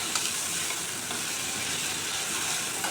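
Onions and tomatoes cook together in a pan for a Kerala restaurant-style egg curry, giving a steady, close sizzle with faint stirring scrapes and no talking.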